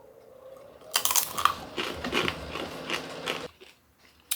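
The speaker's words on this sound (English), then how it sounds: "these poppers are good, but they're very, very crunchy" Loud, close-up crunching as a dry, brittle freeze-dried popper snack is bitten and chewed for a few seconds, then stops.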